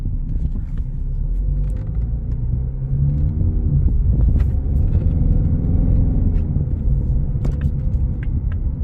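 A 2025 Ford Mustang EcoBoost with low miles rolls along on a road test, a steady low engine and road rumble heard from inside the cabin with faint clicks and no speech.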